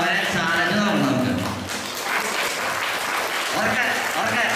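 Audience members at a music programme clap harder in vigorous, continuous applause, with voices talking over the start and end.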